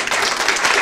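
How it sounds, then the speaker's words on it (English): Brief burst of audience applause at a lecture on race and education, a dense wash of clapping heard loud and close for under a second. "we gotta give her a round of applause."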